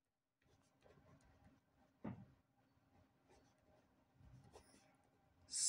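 Chalk or pen scratching in short strokes on a board during a Class 9 geometry lesson, quiet and close, with small taps and pauses between strokes and a louder knock near the end.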